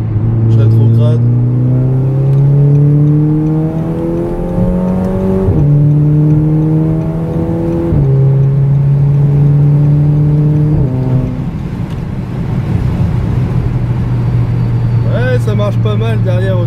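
Audi TT mk2 Cup with S-tronic gearbox accelerating, engine pitch climbing in steps with quick gear shifts, then a downshift and renewed pull; a voice speaks briefly at the start and end.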